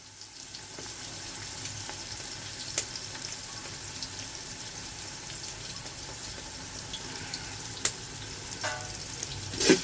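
Onions fry in a pan for dum biryani, giving a steady, soft sizzle with scattered faint crackles and a few small clicks, all fairly quiet and without voices.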